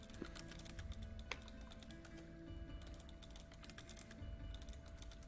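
Fast, irregular keystrokes on a computer keyboard, close and quiet, coming in bursts with short pauses between them and no talking.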